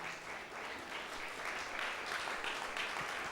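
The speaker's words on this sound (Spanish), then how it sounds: "¿Puede dar alguien un fuerte aplauso al Señor?" A church congregation applauds, steady hand clapping spread through the room, moderately distant and fairly quiet, continuous for a few seconds with little voice over it.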